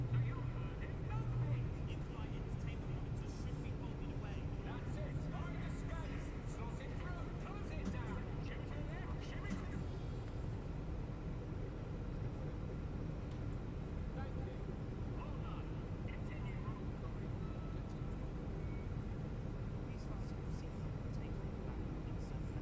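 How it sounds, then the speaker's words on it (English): Airbus A350 jet engines run after start-up during pushback, a steady, continuous roar and hum that holds level throughout, with faint voices now and then. "Beautiful engine sounds."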